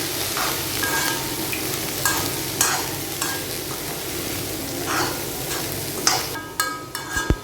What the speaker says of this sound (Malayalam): എന്നിട്ട് നന്നായിട്ടൊന്ന് ഇളക്കി കൊടുക്കണം. മഞ്ഞൾപ്പൊടിയും തേങ്ങയും എല്ലാ ഭാഗത്തേക്കും എത്തട്ടെ.